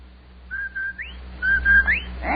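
The Rinso White advertising whistle sounds on an old Amos 'n' Andy radio program: two clear, close whistled phrases, each holding a steady note and then swooping upward, heard alone.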